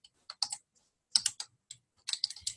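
Fingers tap quickly on a computer keyboard in three short bursts of clicking keystrokes separated by brief pauses, close and clear with no talking.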